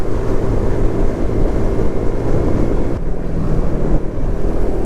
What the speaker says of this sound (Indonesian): debu bercampur angin